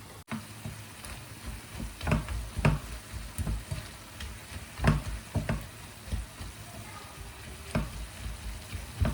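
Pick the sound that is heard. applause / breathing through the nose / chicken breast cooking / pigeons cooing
chicken breast cooking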